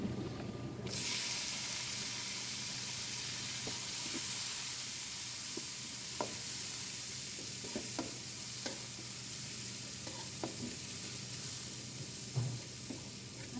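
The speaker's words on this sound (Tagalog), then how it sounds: "Pwede na po natin ilagay itong ating sibuyas at sili." Onion and chili hit hot oil with browned garlic in a pan, giving a sudden loud sizzle that settles into a steady frying hiss with occasional stirring clinks.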